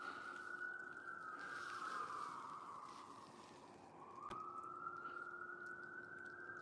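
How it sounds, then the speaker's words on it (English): Outdoor emergency vehicle siren wailing in a slow rising and falling sweep, faint and distant under a low background hush, with no talking. "Sirens, guys. That'll scare the deer."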